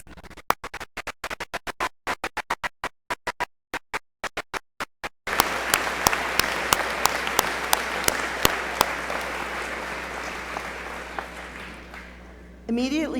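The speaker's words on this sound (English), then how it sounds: "Will each of you join me at this time in extending a most deserved round of applause to this college's" A commencement ceremony audience applauds the college's educators. Sharp, separate claps at first build into a loud, sustained wash of crowd applause with scattered sharper claps, then fade near the end.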